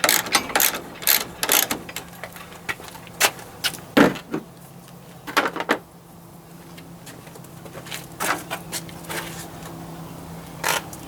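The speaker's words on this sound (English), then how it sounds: "I'm going to loosen up a couple of them here so I can put the guy wire on it." A hand ratchet loosens bolts on a gate during a repair, giving quick bursts of sharp clicking that pause and resume in an irregular rhythm, close and moderately loud, with no talk.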